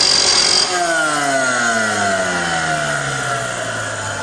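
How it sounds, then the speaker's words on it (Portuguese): An angle grinder cleans a weld bead on steel, its steady high whine running continuously, loud and close, with the pitch sliding downward as the disc loads against the metal. "Eu estou usando a esmerilhadora para fazer a limpeza"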